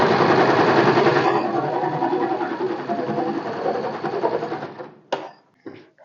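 An electric sewing machine runs a fast, continuous cross stitch along a blouse lining, its close rapid whirring holding for about five seconds before stopping with a couple of sharp clicks.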